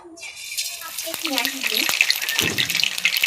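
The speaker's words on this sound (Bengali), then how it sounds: "তেল কেটে গেছে, এবার আমি আস্তে আস্তে ভেজে দেবো।" Boondi batter fries in hot oil for a sweet-shop recipe, a rising bubbling sizzle that grows louder and denser as the drops hit the oil, with a few light clinks.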